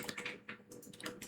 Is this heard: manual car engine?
no